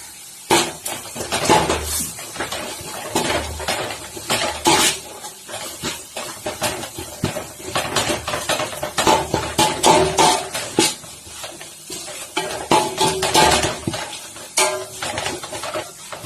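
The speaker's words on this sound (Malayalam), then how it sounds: "ഒരു 3 ടീസ്പൂൺ മീറ്റ് മസാല. ഇനി ഇതിനെ നമുക്ക് മിക്സ് ചെയ്യാം." A spoon stirs meat masala into a beef fry in a metal pan, giving repeated clinking scrapes and knocks against the pan in an irregular rhythm, close and fairly loud, with no talking.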